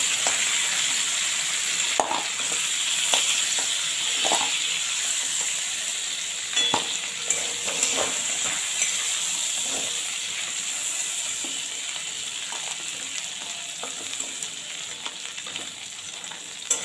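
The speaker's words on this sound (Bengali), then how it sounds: "এরকম হালকা ভেজে তুলে নেবেন।" Crab pieces lightly frying in mustard oil in a pan, a steady close hiss and sizzle with small pops and crackles running the whole time, no talk.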